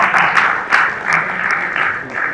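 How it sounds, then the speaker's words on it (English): Audience applause at an Indian Chamber of Commerce youth leadership forum session, a loud, close burst of clapping with uneven swells and individual sharp claps, continuing throughout. "can we have a huge round of applause for Siddhi and Vansh?"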